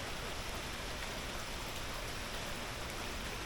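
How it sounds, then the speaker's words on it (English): Steady, fairly hard rain falls outside a workshop in Idaho, a dense, even hiss of drops that holds unbroken and moderately loud throughout with no other sounds over it. "We get a nice, steady, fairly hard rain."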